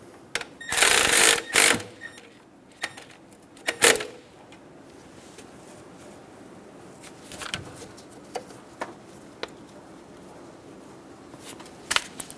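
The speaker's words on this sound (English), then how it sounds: "And we'll snug down the bracket bolt." A ratchet snugs down the timing belt bracket bolt on a 1994–1997 Honda Accord 2.2L, with a couple of loud clicking bursts at the start, then sparse, faint clicks and clanks.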